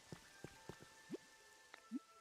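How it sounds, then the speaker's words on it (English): Rain falling in the video game Pokopia, heard as a few scattered, soft droplet plinks and taps at irregular intervals over a quiet background, with no voices. "Mostly protected from the rain."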